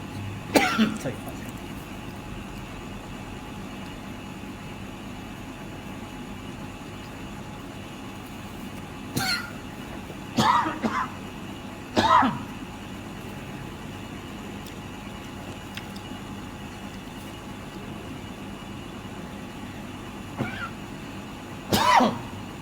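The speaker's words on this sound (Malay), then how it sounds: "Sorry, batuk sikit." A lecturer coughs several times during a religious talk: a few sharp, close bursts, some in quick pairs, spread out over a quiet room with a faint steady background hum.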